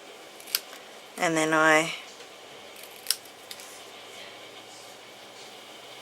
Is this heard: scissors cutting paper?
yes